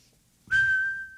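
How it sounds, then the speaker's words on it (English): A person's nostril gives a single thin, steady whistle on one breath, starting abruptly after a brief soft exhale and holding a clear, close, fairly loud tone to the end. "Man, my nose whistled."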